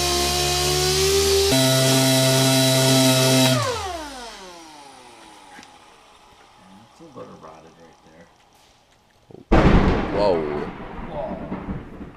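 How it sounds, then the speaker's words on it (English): A whining power tool in a shop winds down into quiet, then a sudden loud crack of lightning striking the ground just outside bursts out and rumbles away. "So a lightning bolt just hit the ground outside."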